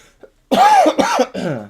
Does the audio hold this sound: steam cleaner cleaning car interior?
no